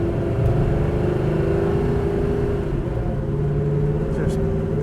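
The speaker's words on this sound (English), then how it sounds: "You can really hear the rumble of the engine with that." A 1969 Chevelle SS with a 396 engine and solid lifters idles nearby, a steady deep rumble with a faint ticking texture running unbroken throughout.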